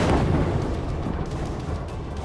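A nighttime Israeli strike on a media office building in a residential area sets off a heavy blast: a deep broadband boom that rolls on and slowly fades into a dense rumble.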